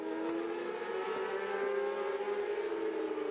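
Racing motorcycles scream around the Motorsport Arena circuit in Germany, a steady high-revving engine wail held loud and close throughout with slight pitch shifts, no voices over it.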